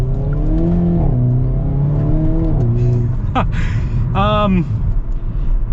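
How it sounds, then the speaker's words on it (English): A 2022 Hyundai Kona N engine burbles and revs under light partial throttle at low speed, with a throaty exhaust gargle and a brief crackle, heard from close by. "you get gargles out of the exhaust too"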